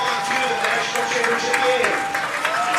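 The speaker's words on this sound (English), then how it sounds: "See a round of applause for the lacrosse team." A crowd at a college baseball game applauding the lacrosse team, with dense clapping running throughout under a public-address voice.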